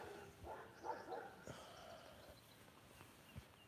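Dogs on a rural property barking, with a few short, moderately distant barks standing out from quiet outdoor background noise.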